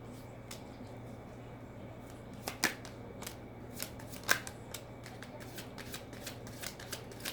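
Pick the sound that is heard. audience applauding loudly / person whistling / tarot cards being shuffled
tarot cards being shuffled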